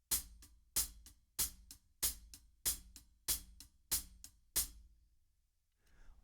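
Hi-hat eighth notes for a song's groove, played as a steady closed pattern with slight accents on each beat, eight crisp strokes that stop and leave a short quiet tail.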